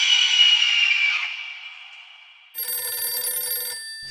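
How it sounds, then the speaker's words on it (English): An iPhone rings in a tense comedic scene, with a steady electronic ringtone sounding, fading slightly, then a brighter, denser ringing pattern starting midway and cutting off near the end. "my iPhone's ringing"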